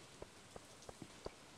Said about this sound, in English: Just rainy weather.